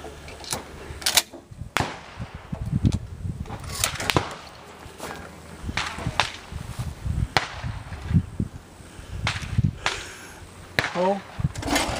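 Shots from a 12-gauge pump-action shotgun on an outdoor range, fired at thrown targets: several sharp, loud blasts spaced a few seconds apart, with people talking between and over them.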